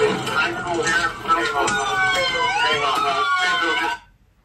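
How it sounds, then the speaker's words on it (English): A loud police siren wails continuously with rising and falling tones, then cuts off abruptly near the end. "It's that dumb police siren."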